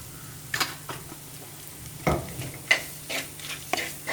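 A spoon scrapes and knocks through prawn curry masala frying in coconut oil in a pan, giving several distinct stirring strokes at an uneven pace over a soft, low sizzle, close and fairly clear.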